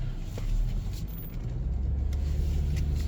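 A city car rolls along a dirt road, its engine rumbling low and steady, with road noise from the rough surface and no talk.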